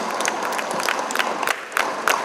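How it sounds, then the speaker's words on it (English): Dense crowd applause with scattered cheers fills a hall at a national coding project event at a university in Deralakatte, steady clapping throughout with occasional louder bursts. "a big round of applause for all the top 10 teams"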